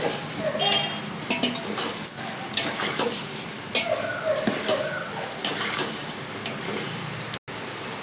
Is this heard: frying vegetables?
yes